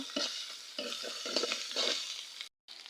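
A spoon stirs onion, cumin paste and ginger paste frying in a pan for chicken curry, giving close scraping strokes over a soft sizzle before a brief cut to silence near the end.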